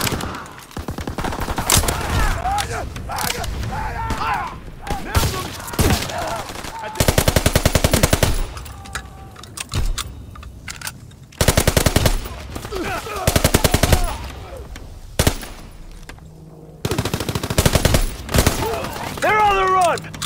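Gunfire in the World War II shooter game Call of Duty WWII: bursts of machine-gun fire and shots in loud clusters, with shouted voices and battle chatter between the volleys.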